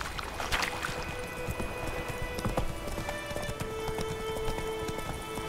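Hooves of Roach, Geralt's horse in The Witcher 3, pound in a steady galloping clip-clop rhythm throughout, with soft game ambience underneath.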